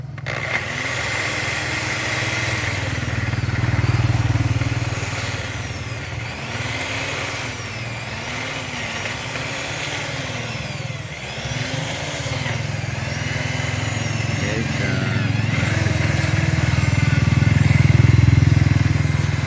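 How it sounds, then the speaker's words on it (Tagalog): A Nissan TD27 diesel engine idles steadily and close by, a low rumbling drone with a faint rhythmic knock that swells slightly toward the end. "Ang makina nito guys ay TD27 na Nissan."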